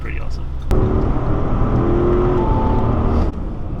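An Audi RSQ8 with a V8 engine accelerates from inside the cabin, a sudden surge of engine roar that holds loud and steady for about two and a half seconds before dropping back, with a faint voice just before.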